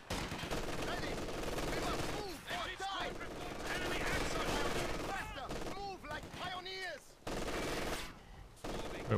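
Rapid machine-gun bursts in a World War II strategy game against Wehrmacht forces, with sustained overlapping fire and scattered impacts, loud and continuous under a voice talking over it.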